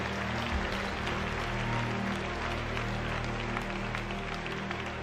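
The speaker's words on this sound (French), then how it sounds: "L'Éternel, on applaudit." Church congregation applauding during a sermon, a steady wash of clapping over a low sustained tone that runs throughout.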